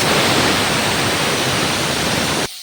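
Green chillies, small shallots and tomato frying in hot oil give a loud, steady, broadband sizzling hiss that runs without a break, then cuts off abruptly at the very end.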